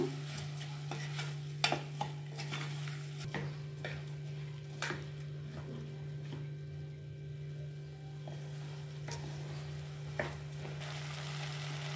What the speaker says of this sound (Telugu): కొంచెం నెయ్యిలో ఒక 2 నిమిషాలు ఇలా ఫ్రై చేస్తే అన్నం పొడి పొడిలాడుతా బాగుంటుంది పులగం